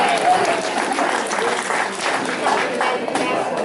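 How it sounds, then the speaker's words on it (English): A crowd at a Halloween senior health fair gives a performer a round of applause, dense sustained clapping at fairly close range that stays level throughout, with faint voices mixed in. "All right, let's give him a round of applause."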